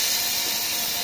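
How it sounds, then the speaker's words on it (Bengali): Turmeric and chili spices hiss and sizzle steadily in hot mustard oil in a village kitchen, a continuous close, bright frying noise with no break. "তেলটা গরম হয়ে গেছে"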